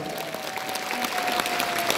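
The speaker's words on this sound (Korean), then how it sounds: "박수로 하나님께 영광을 드립니다" A church congregation applauds together in a dense, steady burst of clapping that fills the room at close range. No one speaks over it.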